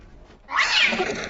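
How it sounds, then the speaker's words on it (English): A cat in a TV episode lets out one loud, drawn-out yowl that rises sharply after a quiet moment and holds, close and harsh, with no talking over it. "What is up with that cat? Is someone throwing it?"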